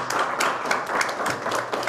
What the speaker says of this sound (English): We should clap even more for Catherine because this is her first presentation ever.